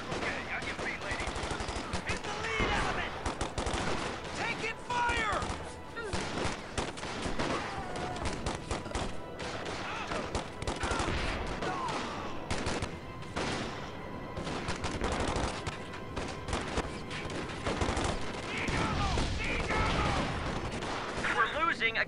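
Sustained battlefield gunfire in the war strategy game Company of Heroes 2: dense machine-gun bursts and rifle shots crackling almost without pause, with shouted voices mixed in among the firing.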